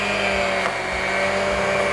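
Electric mixer running on low through sugar cookie dough, a steady close whirring hum with no talk.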